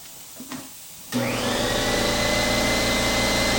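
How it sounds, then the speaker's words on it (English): An air compressor in a garage where brake pads are being changed starts up after a quiet moment with a click, then runs as a loud, steady motor drone that holds to the end. "Let's turn the air compressor back on."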